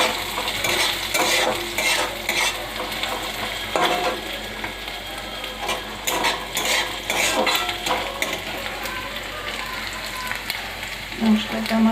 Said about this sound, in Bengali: মশলাটা আমার প্রায় ভাজা হয়ে এলো